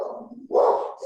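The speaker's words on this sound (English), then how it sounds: "and my dogs are barking." Dogs barking at home, in a short burst of one or two muffled barks, moderately loud and close, with no talking over them.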